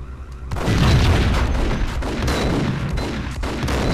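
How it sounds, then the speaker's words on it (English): Grenade blast in the video game Max Payne: a loud broadband boom that rolls into sustained rumbling crackle and debris-like bursts, close and dominant, with no talk over it. "watch, I'm just gonna throw a grenade"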